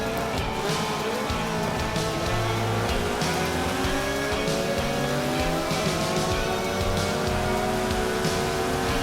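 Tuned Toyota MR2s, an AW11 and a more powerful SW20, race in Forza Horizon 4, with loud continuous engine revs rising and falling through gear changes and tire squeal through corners, no talk.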